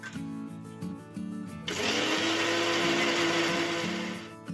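An electric blender grinds chilli, ginger, tomato and black pepper into a spice paste: a loud, close motor whine starts after a short pause and runs steadily to the end.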